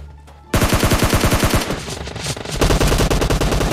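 Bursts of rapid automatic gunfire from PUBG Mobile rattle out loud and close, several seconds of continuous machine-gun fire after a brief quieter lead-in, with no voices.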